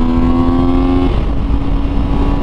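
A Moto Morini motorcycle engine, a scrambler-style dealer demo bike, roars loudly and steadily at full throttle with a strong, sustained tone and no voices.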